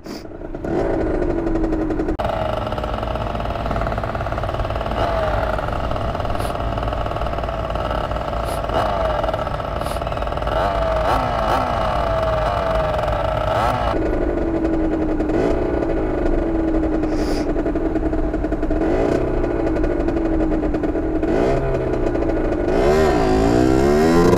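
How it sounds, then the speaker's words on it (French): A small 50cc motorcycle engine drones steadily while riding through Paris, its pitch shifting as it speeds up and slows, loud and close throughout. "c'est ma moto, c'est ma nouvelle moto"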